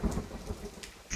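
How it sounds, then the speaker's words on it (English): Rain hisses steadily in The Forest video game while a low thunder rumble rolls underneath, building again near the end of a short, fairly quiet stretch with no talking. "Scares me every time with the thunder."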